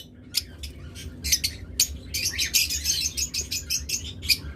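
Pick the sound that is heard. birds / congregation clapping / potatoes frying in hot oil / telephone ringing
birds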